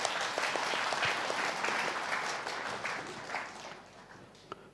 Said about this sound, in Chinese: 帮我给他们掌声，好不好？